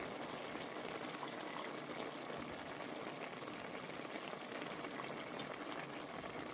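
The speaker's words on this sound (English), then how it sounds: "Now when it comes to adding the wine, you're using a dry white wine or any white wine you have at home." Dry white wine splashes into a simmering bolognese sauce, a steady hissing, bubbling wash that stays even and close throughout, with no voices.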